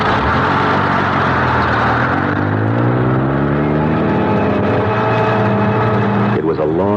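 A bus engine drones loudly and steadily on a long ride, a radio drama sound effect, with a low rumbling hum that shifts pitch slightly as it runs, ending in a brief change near the close.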